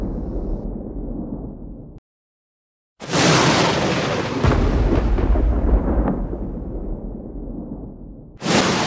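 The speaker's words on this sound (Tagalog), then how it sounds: "Tama, ito ay tunog ng kidlat." A lightning strike and its thunder in a natural storm: a crackling rumble, a short gap of silence, then a loud sharp crack that rolls into a long, broad roar, with another burst cut off at the end.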